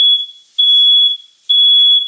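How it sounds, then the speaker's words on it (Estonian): A home smoke detector's alarm sounds loud and shrill, three piercing high beeps each lasting about half a second, separated by short gaps, with no other sound around them. "See on nüüd siis teine kord, kui meil see suitsuandur tööle läks."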